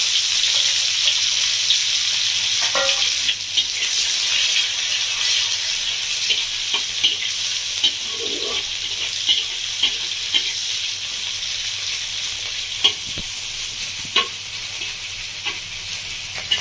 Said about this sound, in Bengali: পেঁয়াজটাকে একটু হালকা করে ভেজে নিয়েছি ফোড়নের সাথে